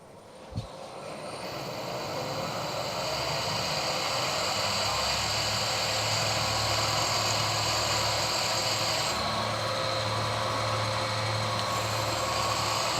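A 6.8mm tapping drill bores holes for an 8mm thread in a welded metal workpiece with hardened weld spots, producing a steady, loud, continuous machine whir and grinding hiss that holds for the whole stretch without talk.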